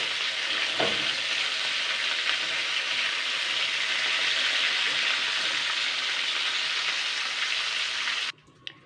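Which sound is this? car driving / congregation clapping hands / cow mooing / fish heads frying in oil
fish heads frying in oil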